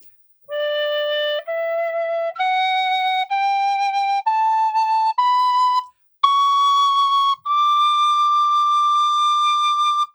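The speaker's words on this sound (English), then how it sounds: "that's your basic scale on the whistle" A tin whistle plays a rising scale, each clear, pure note held about a second, stepping upward one after another, close and steady.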